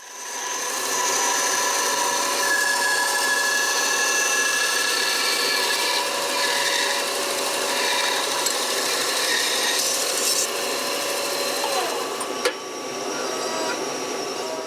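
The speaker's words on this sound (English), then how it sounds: "I'm going to go over to the bandsaw and I'm going to take a couple of the pieces of maple and some of the walnut and split them in half" A bandsaw runs steadily while splitting pieces of maple and walnut in half, a continuous loud whine and rasp of the blade through hardwood that shifts slightly near the end of the cut.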